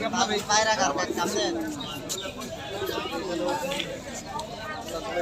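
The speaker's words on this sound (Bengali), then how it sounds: "এখানে খুব দেশি কবুতর খুব সুন্দর কবুতর আছে" Pigeons, including local Bangladeshi breeds, coo softly amid a busy crowd at Taktarchala livestock market in Bangladesh, with several voices talking and chattering nearby throughout.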